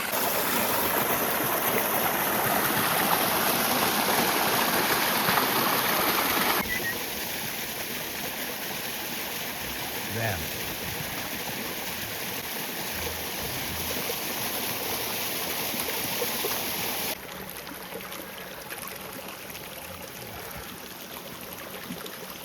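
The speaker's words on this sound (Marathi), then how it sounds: "पाणी चालू इथं." Water rushes steadily nearby, a broad continuous hiss that drops in level twice, becoming quieter and more distant.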